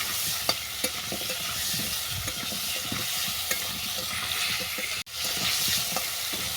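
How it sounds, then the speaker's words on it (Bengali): Potato and pumpkin pieces with turmeric lightly frying in a pan, a steady close sizzle with repeated spatula scrapes and stirring knocks, briefly cut near the end, with nobody talking. "আলু কুমড়োটাকে হালকা করে ভেজে নেব"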